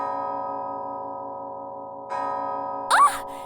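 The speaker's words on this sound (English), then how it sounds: "That would be the first official rest bell." A single rest bell chimes near the end of a steady, humming ambient bed of an ASMR roleplay, a brief bright ding rising over the background drone.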